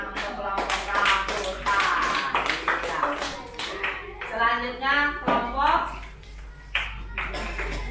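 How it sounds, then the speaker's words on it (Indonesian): Classroom applause for a student group, a burst of children clapping in uneven rhythmic waves, close and lively, with voices mixed in. "Tepuk tangan untuk kelompok rambut."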